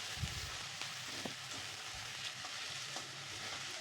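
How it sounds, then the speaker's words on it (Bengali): Chopped tomatoes and green chillies fry in a pan with a quiet, continuous sizzle. A few soft stirring scrapes break through now and then. "এইভাবে কিন্তু ভেজে নিচ্ছি যতক্ষণ পর্যন্ত টমেটোটা গলে না যাচ্ছে।"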